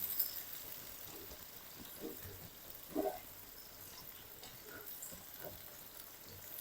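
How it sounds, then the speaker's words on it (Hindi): Onions frying in ghee over a high flame, a soft steady sizzle with occasional stirring scrapes, one brief louder clink near the middle, fairly quiet throughout. "इसी तरह हिलाते हुए 3 से 4 मिनट मैं इनको पका लूँ, फ्राई कर लूँ प्याज को"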